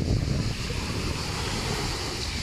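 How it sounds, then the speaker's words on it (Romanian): Wind roars across the microphone in a steady low rumble on a beach at Nikiti, gusting louder at the start and then holding constant. "Mă enervează vântul ăsta că bate"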